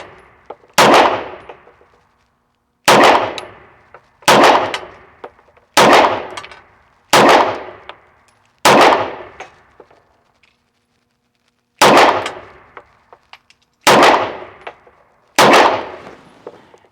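Nine sharp, loud pistol shots from a Bul SAS II TAC fitted with a green dot sight ring out one at a time, each with a short decaying tail, spaced about one to three seconds apart with a longer pause midway.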